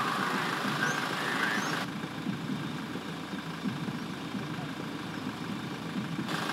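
A truck engine idles steadily at close range, a continuous low rumble that drops slightly in level partway through and then holds even, with no speech over it.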